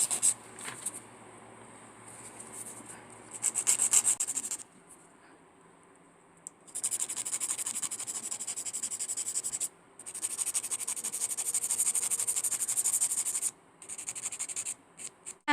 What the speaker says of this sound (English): you're gonna file it to the same shape as the one on top